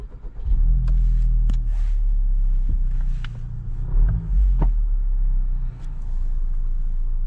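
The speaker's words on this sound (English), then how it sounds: "now you can turn the vehicle on." A 2023 Honda Civic Type R engine turns over and catches with a deep rumble. It settles into a steady, loud idle close by, with faint clicks and no voices.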